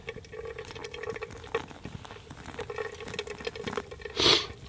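Hot water poured slowly over grounds for drip coffee at an outdoor camp stove, a soft steady trickle and patter close by, with faint background noise and a brief louder splash near the end.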